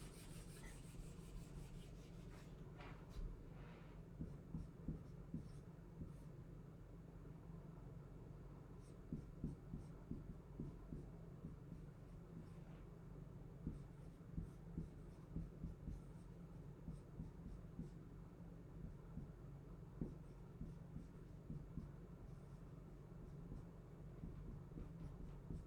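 Handwriting during a calculus lesson: faint, close scratching and rubbing strokes come in short irregular bursts over a low steady background hum, with no talking.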